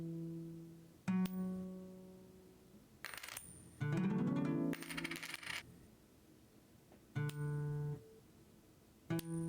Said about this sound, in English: Where it's just you're rolling dice to get A to B.